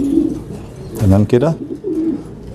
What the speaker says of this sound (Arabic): تحس ان هو حمام كبير مش زغاليل